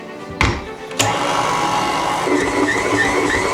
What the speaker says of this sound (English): Attach your dough hook to the stand mixer and then you're going to mix this on low speed